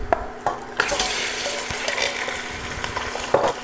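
Half a kilo of mutton drops into hot oil with cinnamon, cardamom and cloves for Awadhi taar korma, setting off a loud, steady sizzle with a few clanks and stirring bumps.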